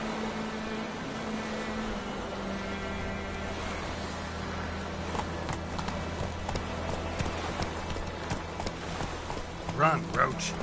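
A horse gallops with rhythmic clip-clop hooves in The Witcher 3 video game, heard steadily and moderately loud under game music and character dialogue throughout.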